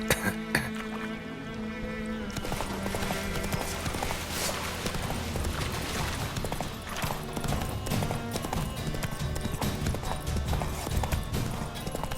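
Roach the horse gallops in The Witcher 3: Wild Hunt on PS5, fast, continuous hoof beats pounding close under game music and ambient sound.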